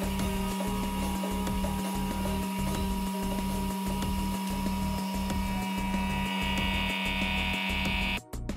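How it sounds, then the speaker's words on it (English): A steady mechanical hum with a regular pulsing throb from a vacuum pump running continuously on a sealed vacuum bag over a carbon fiber wing layup, constant in level until it cuts off abruptly at the end. "Then I sealed the vacuum bag and turned on the pump."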